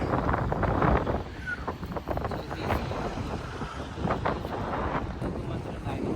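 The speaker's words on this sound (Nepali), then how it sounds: "हावा डेन्जर हानिरहेछ" Strong wind roars steadily against the microphone, a constant rough buffeting with a low rumble underneath.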